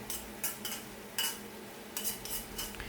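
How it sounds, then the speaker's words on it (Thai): Blanched catfish being stir-fried with sauce in a wok, heard as steady soft sizzling with repeated scraping and clinking of a spatula, close but fairly quiet, with no voices. "ผัดคุกเขาให้ซอสกับปลาเข้ากันดีครับ"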